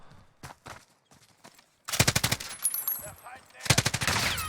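Gunfire in the video game Warzone with a PKM and Mac 10: a few scattered single shots, then two loud rapid automatic bursts close by, separated by a short gap with faint background game noise.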